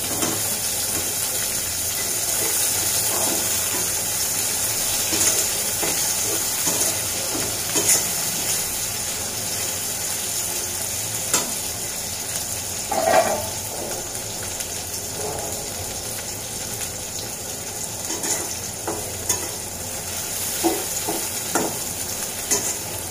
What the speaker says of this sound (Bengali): পেঁয়াজগুলো হালকাভাবে ভেজেই কিন্তু আমি শুটকিগুলো দিয়ে দিব, কারণ শুটকিগুলো আমি এগুলোর সাথে ভাজবো